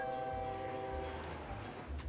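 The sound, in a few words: train at station in video game OpenTTD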